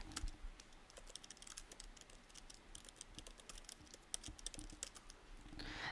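Fingers type on a computer keyboard, tapping tab and enter among other keys. The clicks are quiet, close and quick, in an uneven run of keystrokes.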